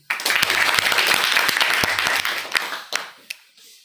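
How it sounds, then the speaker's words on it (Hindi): An audience at a speech event breaks into loud, vigorous applause, a dense crackle of many hands that holds for over two seconds, then thins to a few scattered last claps. "सबसे पहले इनके लिए जोरदार ताली।"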